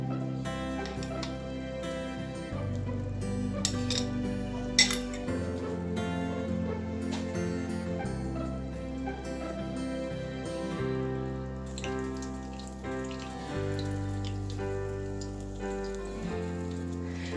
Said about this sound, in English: I will put extra virgin olive oil and I will cook the egg in medium heat. Now I will put eggs into the pan.